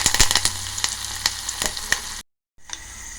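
Mustard seeds, cumin, chana dal, urad dal, dried red chillies and curry leaves sizzle and crackle loudly in hot oil for a tomato chutney tempering, with steady popping that cuts to silence briefly before resuming.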